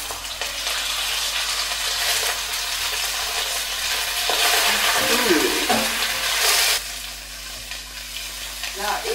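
Food frying in a pan with oil being stirred, a steady loud sizzle with scraping stir sounds, thinly cut ingredients cooking fast in a kitchen while people talk in the background.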